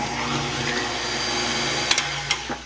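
Banana bread batter is churned in a bowl by a steady electric mixer whirring under a constant mechanical drone, ending with a few knocks and clicks near the close.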